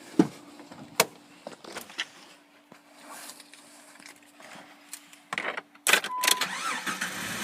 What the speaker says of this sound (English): it's a pinging. It kind of sounds like a rattle, like a pulley's loose